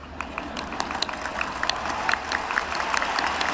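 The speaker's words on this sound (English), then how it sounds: "the crowd didn't boo, they cheered, they applauded, they laughed" A crowd applauds and cheers, with dense scattered clapping and a broad roar of voices that holds steady and swells slightly toward the end.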